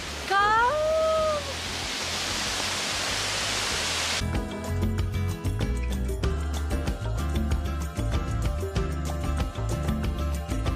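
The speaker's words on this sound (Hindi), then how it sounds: "Waterfall behind me." Waterfall amid snow in Kashmir gives a steady broad rushing roar for the first four seconds, close and loud, before it gives way to other sound.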